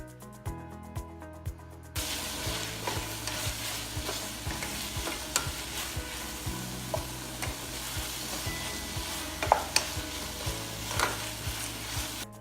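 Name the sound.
sauteing finely chopped tomato with salt in a pan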